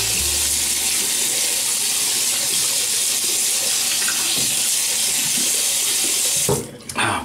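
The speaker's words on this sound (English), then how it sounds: "let me wash my face here" Steady rush of water running from a tap at a sink while someone washes their face after a shave, loud and continuous, then cut off abruptly near the end.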